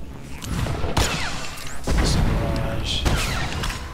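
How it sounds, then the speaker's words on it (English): Missile barrage explosions in Star Wars: The Old Republic come as three heavy booming impacts roughly a second apart, each with crashing debris and rumble, loud and close amid battle effects, with a voice talking underneath. "Kind of waiting for a second missile barrage."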